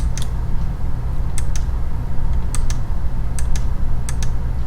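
A computer mouse double-clicks repeatedly in embroidery digitizing software, giving five crisp, close pairs of clicks spaced about a second apart over quiet room noise, with no talking.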